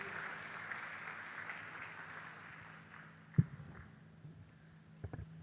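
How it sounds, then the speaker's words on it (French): Church congregation in Yaoundé clapping for Jesus, a soft wash of distant clapping that thins out gradually, with one sharp close knock and a few scattered taps near the end. "That clap can be better."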